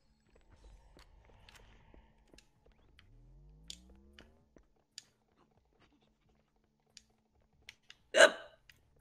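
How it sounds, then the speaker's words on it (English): A single sharp hiccup bursts out loudly near the end, after a long quiet stretch of faint scattered clicks and a soft rising tone. "Oh no, hiccups."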